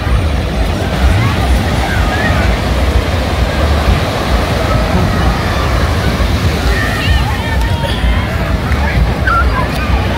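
Ocean surf washes in continuously at Cocoa Beach, Florida, during spring break, a dense, loud roar of breaking waves with faint crowd babble mixed in.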